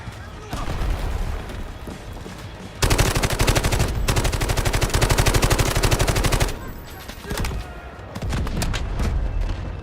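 Heavy gunfire in the Delta Force video game, with sustained rapid bursts and booming artillery-style blasts dominating the middle stretch, surrounded by lighter shooting and a player talking.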